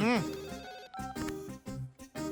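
A phone rings with an incoming call in a repeating melodic tone. Short bursts stop and start close to the listener, with a voice heard at the start.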